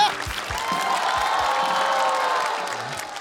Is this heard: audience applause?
yes